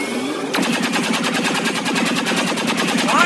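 Loud, rapid automatic gunfire from XCOM 2 combat: after a brief lead-in, a continuous, evenly spaced stream of shots rattles on for about three seconds with no voices.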